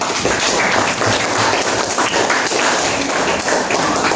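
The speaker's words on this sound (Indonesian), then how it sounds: "tepuk tangan untuk kelompok 1" A classroom group claps for the first student group, a dense, steady patter of hands lasting several seconds at close range, with faint background voices mixed in.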